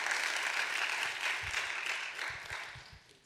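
A church congregation at a lecture on countering Shincheonji gives a round of applause, a soft, fairly distant patter of many hands that fades away toward the end.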